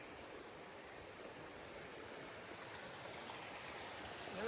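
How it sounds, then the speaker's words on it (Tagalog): The Kakizore River flows in a continuous rush of water, a steady broadband stream sound that is faint and even throughout, with no voices. "dito kami sa ilog"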